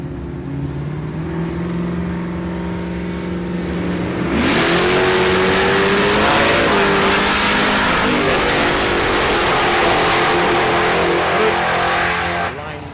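A Ute in a street drag race challenge, its engine idling and then revving hard into a loud, sustained full-throttle roar that holds for several seconds before easing off, with commentary heard over it.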